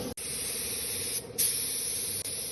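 Spray gun applying rust-inhibiting undercoat to the chassis of a 1975 Series 3 Land Rover, a steady close hiss running almost without a break, with a couple of brief dropouts and a brighter burst partway through.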